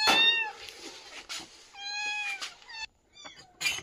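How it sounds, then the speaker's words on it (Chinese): A newly rescued kitten meows repeatedly at close range, giving about five clear, high, drawn-out cries with short pauses between them and no talking. "新救的小猫咪"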